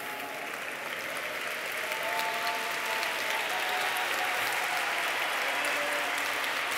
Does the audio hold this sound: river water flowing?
no